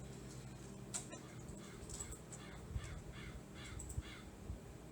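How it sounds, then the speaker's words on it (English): Crows caw outdoors against a steady background of ambient noise, with several faint, scattered calls at a distance. "Damn crows."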